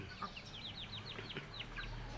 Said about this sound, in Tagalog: Malalaki po ang mga manok na yan.